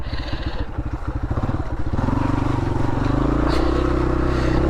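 Motorcycle engine ridden through bush, running with a steady rapid pulsing drone that grows louder and smoother as the rider shifts gears, close and continuous throughout.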